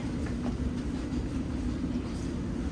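A London Underground Circle Line train runs at a steady pace, a loud continuous rumble with a low hum and faint rail clatter heard from inside the carriage, without speech.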